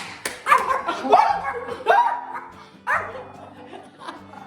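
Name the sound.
dog barking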